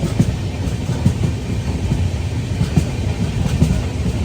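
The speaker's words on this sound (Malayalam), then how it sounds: "നമ്മളെ വണ്ടീനെ ഓവർടേക്ക് ചെയ്ത് ശതാബ്ദി എക്സ്പ്രസ് പോയി." Shatabdi Express passenger train running on the rails past sugarcane fields, heard from a moving train. A steady rolling rumble carries a regular clickety-clack of wheels over rail joints throughout, with no voices.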